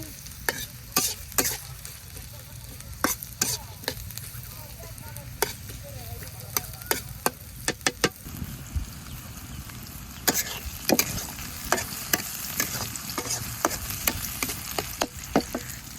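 Chopped onion and green chilies fry in mustard oil at a village cooking spot, giving a steady close sizzle broken by frequent sharp scrapes and clacks of stirring against the pan.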